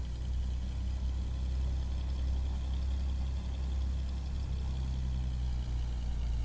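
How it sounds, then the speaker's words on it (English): Engines of a BlackSquare Commander 114 taxiing in a flight simulator: a steady, loud low drone with a constant hum that holds unchanged throughout, no voices over it. "Let's listen to our engines a little bit louder while we are going to make our taxi out here."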